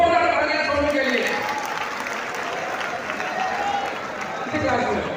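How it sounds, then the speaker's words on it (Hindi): An audience at a university Teachers' Day lecture breaks into loud, sustained applause, a dense wash of clapping from a crowd filling the room throughout, with a few voices mixed in. "जोरदार तालियां सोनू के लिए"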